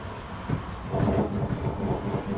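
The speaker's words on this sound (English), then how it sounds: "I will show you just how this lathe wants to dance at 250 RPM." A wood lathe spins an unbalanced green ash bowl blank at 250 RPM, giving a dense low rumbling roar with rhythmic thumping shake, steady and close throughout.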